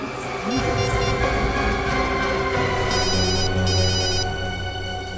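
A telephone rings in a crime-drama scene, its repeated electronic trills cutting in over a loud, busy background rumble before fading out.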